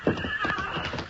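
Horse hooves clip-clopping as a sound effect in a 1952 old-time Western radio drama, a few loud, spaced hoofbeats with a steady rhythm close up, with no talking over them.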